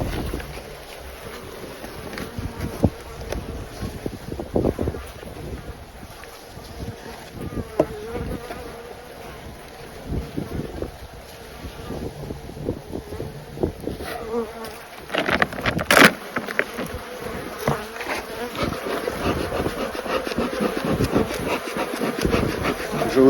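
A dense, steady buzzing of many honeybees at an open hive with a strong colony fills the scene, with a louder swell near the end and a brief voice in the background.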